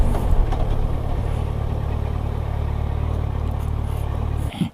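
A 2016 Kawasaki Versys 1000 motorcycle engine hums steadily at close range, an even mid-pitched drone that stops abruptly near the end.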